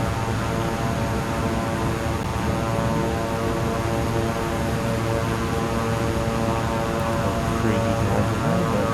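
A Beechcraft King Air 350i taxis at night in MS Flight Simulator 2020, its turboprop engines making a loud, unbroken drone with steady tonal whine and no break throughout.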